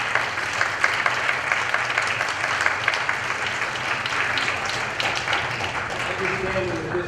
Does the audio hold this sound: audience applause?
yes